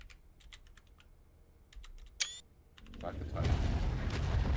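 Computer keyboard typing during an Ark: Survival Evolved play session: a run of crisp, separate key clicks, then a louder rush of game sound that swells and masks the keys.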